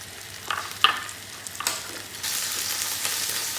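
Asparagus frying in a pan, a soft steady sizzle with a few clinks of a utensil stirring, close by.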